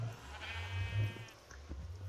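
A single sheep bleats in a video game, a quavering, drawn-out cry over a low steady hum, fairly quiet and slightly synthetic in tone.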